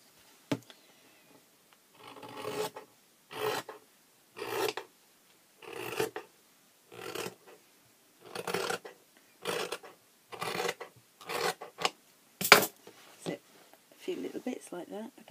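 Excess patchwork fabric is trimmed away in a quiet room: a steady series of about a dozen short, raspy cutting strokes, evenly spaced and close, separated by near silence.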